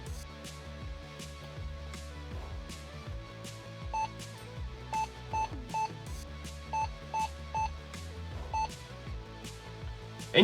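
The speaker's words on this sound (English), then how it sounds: "now it's given me a beep code" A 2000s Sony laptop sounds a beep code: a series of short, clear electronic beeps in an irregular pattern, fairly faint, over a background of mechanical tones and ticks.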